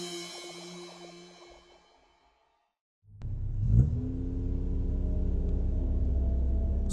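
A car engine starts up and rumbles steadily as the vehicle drives along a deserted road, a close, sustained low drone after a short silence, preceded by a fading tonal sting.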